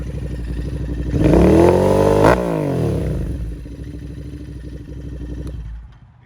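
2021 Royal Enfield Interceptor twin fitted with an S&S 2-into-1 exhaust, revving up sharply from idle to a loud peak, dropping back, then settling into a throbbing idle that fades at the end.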